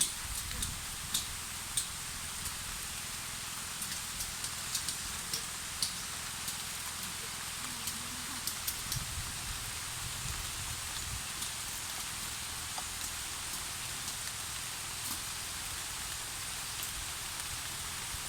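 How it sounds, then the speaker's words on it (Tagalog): Heavy rain pours down steadily on a rural catfish farm, a constant hiss with scattered louder drops tapping nearby surfaces and no talk. "Ay, kusog ng ulan."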